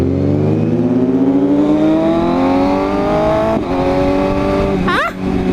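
A BMW i8 and a Bentley drive close by, making a loud, continuous engine drone that climbs steadily in pitch, with a brief sharp whining sweep near the end and no talking.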